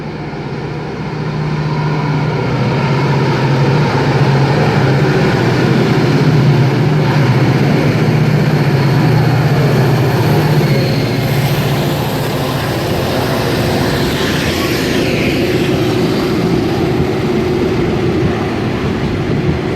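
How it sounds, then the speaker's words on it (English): A train led by locomotive 8137 passes close by near East Richmond, a loud continuous rumble and roar that holds steady for about twenty seconds, then eases slightly. "The leading loco will be 8137."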